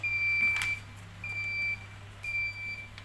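An Emko ESM-3722 digital thermostat with humidity control sounds its temperature and humidity alarm: three clear, evenly spaced electronic beeps, each held about half a second, over a quiet hum.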